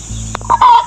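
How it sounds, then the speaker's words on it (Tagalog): A hen on a Philippine farm cackles while looking for a nest to lay her egg: a couple of short clucks, then a loud, drawn-out cackle, close by, with a low hum underneath. "ito naman pong pumuputak na ito ay gusto pong mangitlog"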